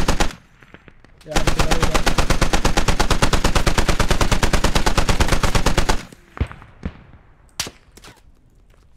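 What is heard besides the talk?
gunfire from the video game Squad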